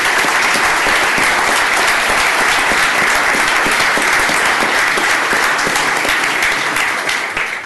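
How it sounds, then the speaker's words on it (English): Dense, steady audience applause in a county commissioners court honoring five-year employees, a loud continuous wash of many hands clapping for several seconds before tapering slightly at the end. "These are our 5-year employees. Let's give them a applause."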